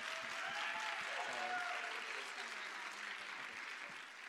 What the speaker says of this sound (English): So if you guys all want to give a round of applause just for being here.